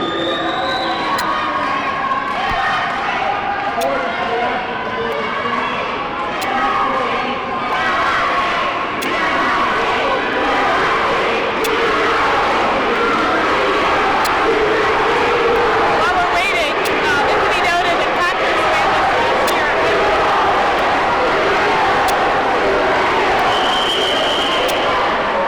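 A loud, ramped-up crowd at a high school swim meet cheers and shouts continuously, with high-pitched yells and whistles over a dense roar of voices throughout.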